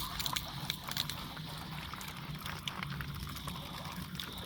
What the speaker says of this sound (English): then you're gonna wanna water it all down